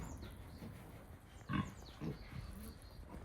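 Black pigs on a natural pig farm in Muan, South Korea, give a few short, quiet grunts over soft farmyard background noise.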